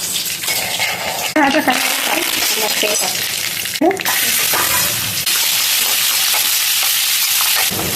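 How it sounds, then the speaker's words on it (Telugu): Mustard seeds and broken chilies crackling in hot oil in a village kitchen, a steady loud sizzle with scraping stir strokes and brief spatter bursts; a voice speaks faintly now and then. "ఆయిల్ వేశారు, మిరపకాయలు తుంచేశారు, ఆవాలు, కర్ర బాగా కలపాలన్నమాట."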